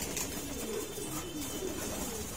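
Racing pigeons coo softly in a yard where male birds are let out to bathe, low repeated coos rising over steady outdoor background noise.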